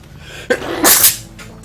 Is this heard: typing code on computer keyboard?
no